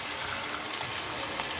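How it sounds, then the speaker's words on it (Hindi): Water poured into a pot of mutton with ginger, garlic, salt, turmeric and raw onions, a steady broadband splashing stream that runs without a break and stays fairly close. "अब इसमें जाएगा पानी,"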